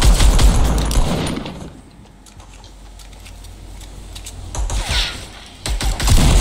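Gunfire in a shooter video game during the Christmas update, with bursts of rapid shots at the start and end and a quieter stretch of faint mechanical noise between.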